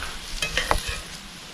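Ground venison frying in a cast iron pan: a steady close sizzle with a few brief scraping stirs of the meat, no talk.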